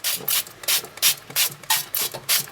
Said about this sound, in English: I'm just going to spray some oil